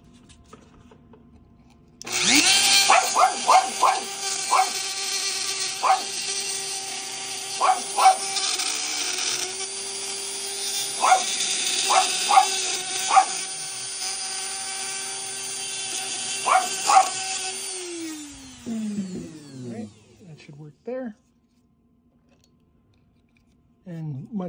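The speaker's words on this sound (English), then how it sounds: "I want this sanded down a little bit more" A rotary tool grinds at a NovoPen insulin pen part, a high steady whine running about fifteen seconds as the piece is pressed in repeatedly, before the motor spins down, with a voice talking faintly around it.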